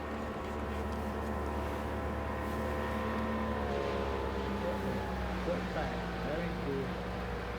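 Motorboats pass by on a lake during a fishing outing, giving a low, steady engine drone with faint tonal hum that stays even and fairly distant throughout.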